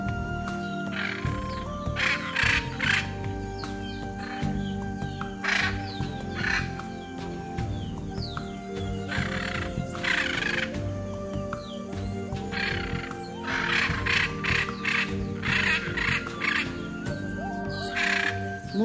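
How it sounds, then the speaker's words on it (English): Harsh, raucous hyacinth macaw calls repeat in bursts over a constant background chorus as the birds come in to roost in Brazil, several squawking at once, fairly loud and close. "the hyacinth macaws were coming in to roost"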